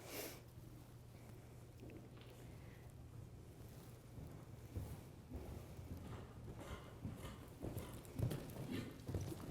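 Horse hooves thudding on an arena during a show-jumping clinic, a steady clip-clop of strides approaching and growing louder, with wind noise buffeting the microphone.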